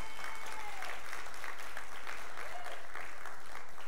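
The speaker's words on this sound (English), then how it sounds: "I will stop for claps." A church congregation claps during a Sunday service, a continuous spread of applause that sounds somewhat distant and roomy, with faint swelling tones under it.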